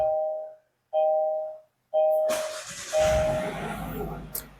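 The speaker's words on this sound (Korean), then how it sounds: "시동을 걸어 볼게요." A third-generation Kia K5 2.0 LPI Noblesse running on LPG starts up: three clear electronic chimes come first, then the engine cranks and catches into a steady, fairly quiet idle, followed by one short high blip near the end.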